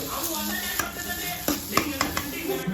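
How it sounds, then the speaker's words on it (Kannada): Onion, tomato and curry leaves fry in hot oil with a steady sizzle, while a spoon scrapes and stirs the pan in several sharp clinks and knocks close by, with no voices. "ಸೊ ಹಂಗೆ ಸ್ವಲ್ಪ ಫ್ರೈ ಮಾಡ್ತಾ ಇರಬೇಕು"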